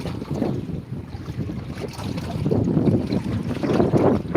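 Strong wind blowing over the open ocean beside a small fishing boat, a constant heavy roar with buffeting gusts and wave wash that swell louder toward the end, with no talking.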